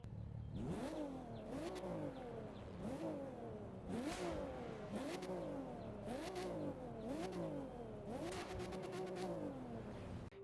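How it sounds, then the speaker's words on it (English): Porsche Cayman GT4 engine in the racing game The Crew 2, revving repeatedly through rising gear pulls with sharp shifts between them, loud and steady with no talk. "let's take a listen to that engine, which you really can never get enough of"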